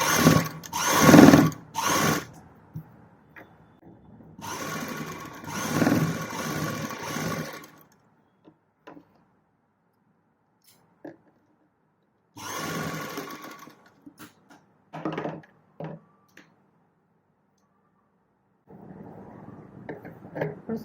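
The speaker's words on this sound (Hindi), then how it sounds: "और हमें इसे सिलाई लगा लेनी है।" A sewing machine stitches a frill sleeve for a kurti or blouse in several whirring bursts of varying length, separated by quiet pauses and a few soft handling clicks.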